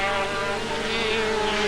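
A race car engine at the Zwartkop circuit revs loud and steady, droning continuously with a strong harmonic whine as it climbs through the gears.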